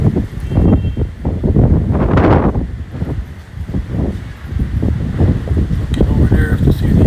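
Strong storm wind in Porac, Pampanga buffets the microphone in loud, rough gusts, roaring and rumbling continuously with brief surges throughout.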